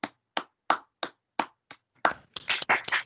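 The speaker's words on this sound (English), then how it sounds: "I offer my applause and absolute appreciation" Sparse hand claps at an annual general meeting of a sickle cell charity, about six separate claps in a slow, uneven rhythm, then a brief quicker flurry, close and fairly soft with no talk.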